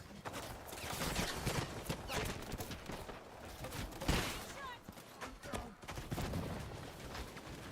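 Dense, rapid gunfire in a video game sounds in continuous bursts, mixed with clattering effects and loud game audio throughout.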